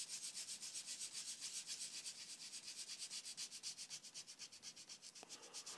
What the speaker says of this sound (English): you just want to scrape the surface.